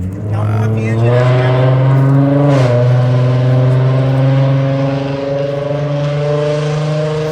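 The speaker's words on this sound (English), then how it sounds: "He's waiting for the fart can to go by." A car with a loud aftermarket exhaust drones past up close, its deep buzzing engine note rising and holding strong for several seconds, while people talk faintly underneath.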